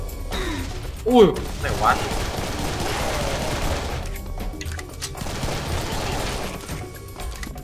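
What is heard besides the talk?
gunfire in the video game Serious Sam 3 BFE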